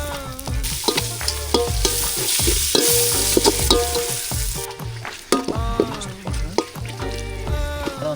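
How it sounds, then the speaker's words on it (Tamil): Tomatoes go into a hot frying pan during an outdoor village cook-up, and steady sizzling and frying carry the whole stretch while the food is stirred repeatedly with scraping strokes, close and fairly loud. "கரெக்டாக இப்போ தக்காளி போட போகிறோம்"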